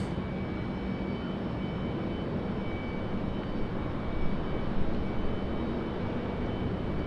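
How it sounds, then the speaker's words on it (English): A small Cessna airplane flies in to land at Raleigh-Durham International Airport, its propeller engine a steady, fairly loud drone that swells slightly midway and holds throughout with no voices. "We'll watch this little Cessna here fight his way in."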